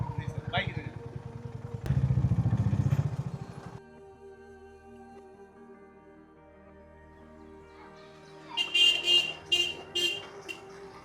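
A motorcycle engine buzzes loudly for a moment, then settles into a low steady hum, followed later by louder clattering bursts, as the bike rides into Maheshwar Fort.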